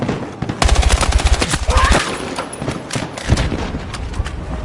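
Rapid automatic gunfire from the video game Battlefield 6, loud bursts of machine-gun fire with sharp repeated shots, followed by a heavier boom and scattered shots.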